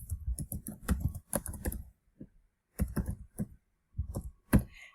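Bursts of quick computer keyboard typing while entering text into an Excel spreadsheet, clustered key clicks separated by short pauses, close and fairly quiet, with no voices.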